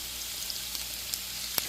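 Eggs frying with carrots in a pan give a steady, soft sizzle with a few faint crackles and light pops, close and even throughout.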